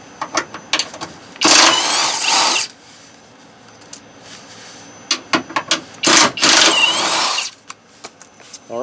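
A power tool on a Ford Transit's driver's side whirs in two loud, multi-second bursts as it removes bolts, with shorter clicks and brief triggers between them, close and without speech.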